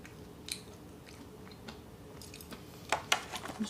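Crispy karaage fried chicken being chewed up close, quiet soft munching with a few sharper crunchy bites near the end, no talk.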